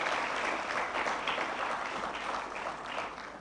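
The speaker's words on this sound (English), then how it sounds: "You can applaud yourselves for that." An audience at a business school convocation applauds, a dense, steady spread of clapping that keeps its level for the few seconds heard.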